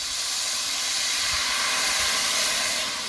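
Water is poured into a hot pan while cooking a thin hilsa fish curry with green chillies, giving a loud, steady steamy hiss and sizzle that fills the whole moment without letup.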